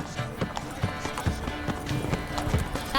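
Hooves of Roach, Geralt's horse in The Witcher 3, pound in a steady galloping clip-clop, close and rhythmic, with a faint whinny and a voice speaking briefly over the hoofbeats.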